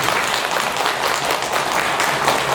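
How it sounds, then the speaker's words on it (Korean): An audience at a Buddhist dharma talk during a full-moon service breaks into steady, dense applause, many hands clapping together at close range for a few seconds with no speech over it. "한 박수 한번 쳐드리세요."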